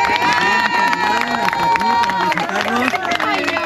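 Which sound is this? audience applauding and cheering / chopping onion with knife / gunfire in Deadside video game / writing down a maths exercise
audience applauding and cheering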